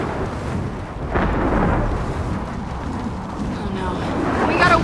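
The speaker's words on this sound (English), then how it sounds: "when it rains, it also sandstorms and lightning storms" Thunderstorm in Gears of War 4, a heavy rolling rumble with rain-like wash and a sharper crack partway through, continuous and loud, with voices speaking over it.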